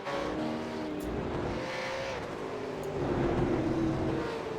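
Race car engine droning steadily in a racing video game at Spa-Francorchamps, on slippery grass under a new tyre model, swelling louder near the end as the car runs off track, with faint tire scrub.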